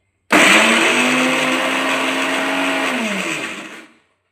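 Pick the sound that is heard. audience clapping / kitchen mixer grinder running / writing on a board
kitchen mixer grinder running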